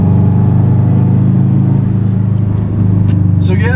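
A 2007 Subaru Impreza STI engine drones steadily while driving, a loud, low, continuous hum with a slight dip and recovery near the end, heard from inside the car with no talk.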